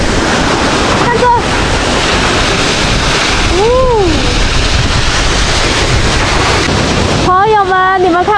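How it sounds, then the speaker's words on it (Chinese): A small waterfall streaming down from a mountaintop in Tibet with heavy spray, a loud, close and unbroken rushing roar with a few brief tonal sounds over it. "朋友们，你们看过这么壮观的瀑布吗？"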